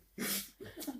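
One quick sneeze up close, a sharp burst of breath followed by a brief voiced tail.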